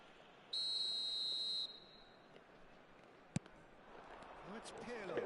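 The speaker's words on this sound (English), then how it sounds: "Whistle's gone," A referee's whistle in the eFootball 2026 football video game blows one loud, steady blast of about a second over low crowd ambience, followed later by a sharp thud.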